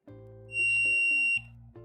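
Smart US10 multimeter set to continuity mode during a microwave magnetron socket repair, giving a clear, near electronic beep that sustains for nearly a second among other faint tones.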